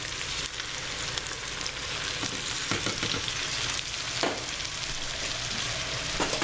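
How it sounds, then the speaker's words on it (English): Diced tomatoes go into a sizzling pot of homemade beef and bean chili, making a steady frying crackle with occasional soft scrapes and stirring knocks, close up and without speech. "I'm going to add all of the diced tomatoes."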